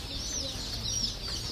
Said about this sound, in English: here's what these chicks kind of look like. There you go. A handful of olive eggers.